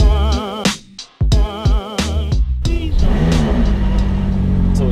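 A McLaren 570S Spider revs hard outdoors in sunshine, with sharp rising blips that cut off abruptly, then a sustained loud engine roar with shifting pitch through the rest.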